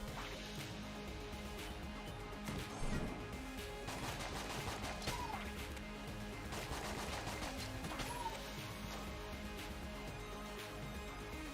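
Tables break apart under gunfire in the video game Enter the Gungeon, a faint, continuous patter of rapid shots and crunching impacts mixed beneath steady background game music.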